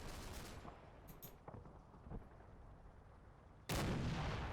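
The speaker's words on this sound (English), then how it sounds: "just keep firing your ineffectual AP shells at a tank you can't penetrate from the front" Armor-piercing shells fired at a tank in the Combat Mission: Battle for Normandy video game: a few faint, distant booming shots, then a sudden loud burst near the end.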